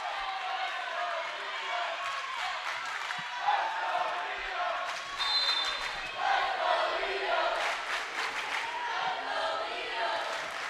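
A crowd cheers and shouts at a women's college volleyball match between ULV and Cal Lutheran, a steady indoor roar with swells and sharp squeaks and bounces, under a commentator talking throughout.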